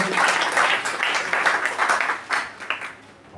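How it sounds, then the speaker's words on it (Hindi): An audience at a National Youth Day event organised by Nehru Yuva Kendra gives a visiting professor a welcoming round of applause, dense at first, then easing into looser, scattered clapping. "सभी से निवेदन करूंगा कि सर का एक बार जोरदार तालियों से स्वागत करेंगे"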